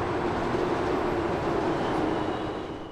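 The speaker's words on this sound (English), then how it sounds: "Today, the sleek Metro Rail crosses the river" Miami Metrorail train crossing the river, a continuous loud rumbling roar of wheels on track that stays steady and fades slightly at the end.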